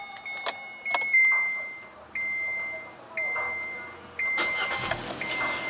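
A 2016 Kia Forte's 1.8-litre inline four-cylinder engine turns over with push-button ignition and settles into a steady idle, accompanied by several short electronic chimes, heard close by with no talking.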